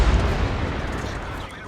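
Tank cannon fire from a B-C CS 59 in an online tank battle game on the Pass map: a single heavy, booming shot right at the start, its low rumble decaying over the next second or so.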